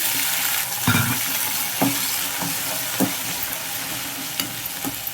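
Green chilies with coriander seeds, fenugreek and cumin fry in a pan of hot oil for a Telugu tomato chutney. The sizzle holds steady throughout, and a few sharp stirs or clinks break through it close by.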